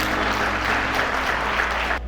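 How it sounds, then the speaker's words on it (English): An audience at a Memorial Day ceremony applauds in a loud, continuous roll of clapping that holds steady and cuts off abruptly at the end, with a low hum underneath. "Let's give him a round of applause."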